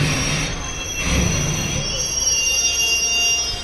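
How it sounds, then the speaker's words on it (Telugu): A train pulls into Panyam railway station on the Guntur–Guntakal line, its wheels squealing loudly against the rails in a sustained metallic screech over a deep rumble, heard close and steady without any talk. "ఇప్పుడంటే వచ్చేసి ట్రైన్ పాణ్యం స్టేషన్కి అయితే ఎంటర్ అవుతుంది"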